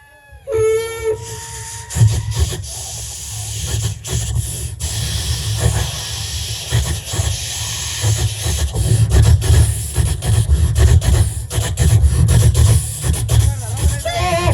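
A voice mimicking a train, with a short whistle-like cry at the start followed by a long stretch of rhythmic huffing and hissing chugs, loud and close.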